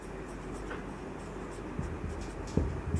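Pen scratching out numbers on paper during a math lesson on polynomials, light continuous writing strokes with a few soft taps, close up over a steady background hum and with no speech.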